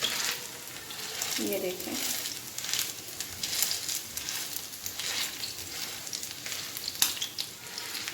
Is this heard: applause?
no